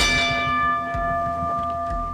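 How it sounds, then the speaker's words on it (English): A bell rings to open a bout at a daytime fighting league event, its steady metallic tone hanging and ringing on throughout, layered over low dull thumps. "Ring the bell."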